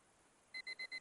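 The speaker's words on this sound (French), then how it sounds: "J'éteignis mon réveil et me rendormis." Alarm clock in the visual novel game Kare wa kanojo rings with four quick, evenly spaced electronic beeps, faint and alone against a soft background.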